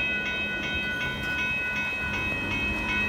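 A northbound Union Pacific mixed freight train rolls past at Dittmar Road in Austin, Texas, with a continuous rumble and regular wheel clicks over the rail joints, close and steady throughout.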